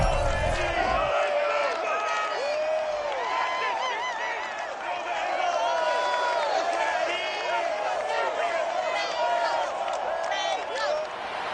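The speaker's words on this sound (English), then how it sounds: "The enthusiasm of this Cincinnati crowd in full effect a moment ago as their Bengals took the field to the delight of the sold-out crowd." Sold-out stadium crowd at a Browns–Bengals NFL game in Cincinnati, from an EA Sports football video game, roars and cheers steadily throughout, loud and dense, with a commentator's voice speaking over it.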